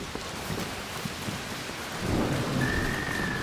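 Electromagnetic-storm thunder in the video game ARC Raiders, a low rolling rumble under steady rain that swells in the second half, with a faint thin tone entering near the end.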